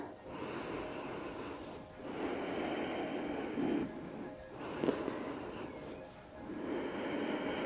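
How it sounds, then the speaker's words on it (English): Slow, deep breaths during a hips and shoulders stretching exercise, several long drawn inhales and exhales in a steady rhythm, close and soft. "And just take 3 deep breaths."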